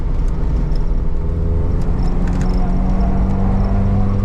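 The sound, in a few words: car engine running while warming up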